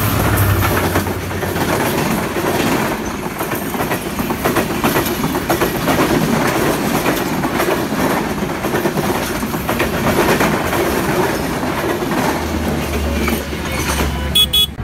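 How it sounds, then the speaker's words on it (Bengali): A train rumbles past on the railway near Basail, Tangail, loud and close, a continuous roar with rhythmic clickety-clack of wheels over rail joints throughout, no voices. "তো রেল এখন এসে পড়বে"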